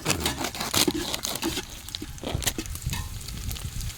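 Onions frying in a pan for mutton biryani, with a steady crackling sizzle broken by stirring scrapes and clicks, close and moderately loud with no talking.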